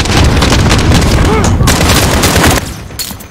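Shotgun fire in Call of Duty Modern Warfare, loud dense blasts packed together, then the din drops away near the end.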